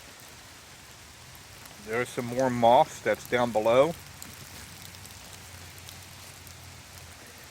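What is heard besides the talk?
rainstorm falling on a garden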